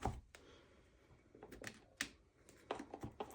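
Tarot cards are shuffled by hand, giving soft, quick riffling and tapping clicks in irregular bursts, close up and quiet in an otherwise still room.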